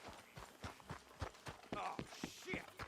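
Horses' hooves clip-clop in a rhythmic series of soft thuds in Red Dead Redemption 2, faint and close under other game sounds.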